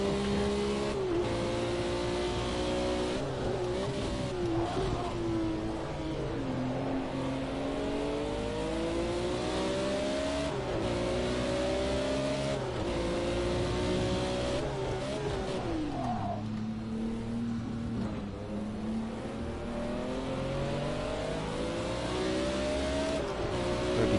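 A race car engine in Project Cars 2 screams continuously through repeated upshifts and downshifts, revs sweeping up and dropping again at a steady rhythm, loud and close with faint tire noise and no talk.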